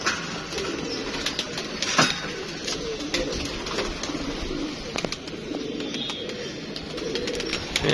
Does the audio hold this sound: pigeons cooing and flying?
yes